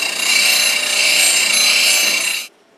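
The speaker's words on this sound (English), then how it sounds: "Now I'm using a CBN wheel" A woodturning parting tool is ground against a CBN grinding wheel, giving a steady, bright rasping hiss that holds for over two seconds and then cuts off abruptly into near silence.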